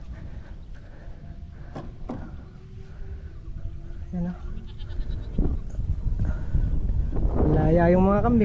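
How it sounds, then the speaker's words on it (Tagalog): Goats bleat nearby on a rural farm. Several wavering bleats come through, with a loud, close one at the end, while people talk throughout against light wind noise. "Laya yung mga kambing ah."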